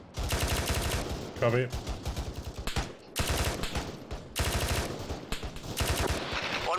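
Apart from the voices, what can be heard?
machine gun fire in video game ArmA3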